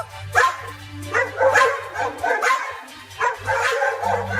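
Two cartoon dogs bark in quick repeated yaps, loud and close, with a low steady hum underneath, in an animated desi comedy.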